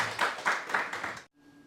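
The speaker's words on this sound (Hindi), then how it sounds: "जोरदार तालियां बजाएंगे" Enthusiastic clapping from an audience at a spiritual birthday celebration, several loud bursts of many hands in quick succession for about a second and a quarter, then cutting off abruptly to near silence.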